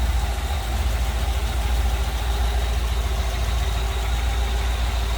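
A 1955 Ford Thunderbird's 292 V8 idles continuously with a low, even rumble throughout, with no other sounds.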